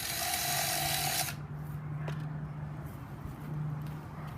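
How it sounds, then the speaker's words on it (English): A power drill bores holes into a metal bar for a motorcycle tail tidy, a loud high whine for just over a second, then a lower steady motor hum with faint clinks. "all I'm going to do is drill a couple of holes from the points that I measured onto the bar"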